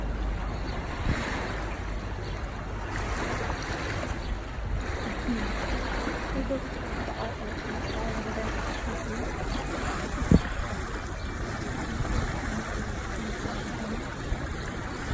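Steady wind buffets and rushes past in a broad, continuous roar outdoors, with faint water and boat noise underneath.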